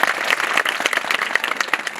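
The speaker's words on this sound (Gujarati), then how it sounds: "એના માટે જોરદાર તાળીઓ થઈ" Loud, dense applause fills the hall for a student at a school annual function, many hands clapping steadily and continuously with no break.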